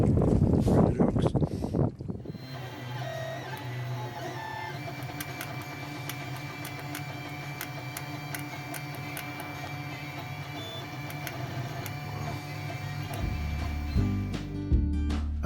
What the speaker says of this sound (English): I had a lot of fun with a 3D printer